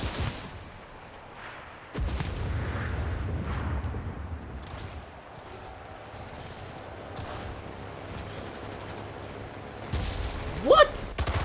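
Heavy wartime combat in the Enlisted video game's Berlin battle between Soviet and German forces, with bomb explosions and rumbling battlefield noise rolling continuously, sharp louder bursts near the start and close to the end.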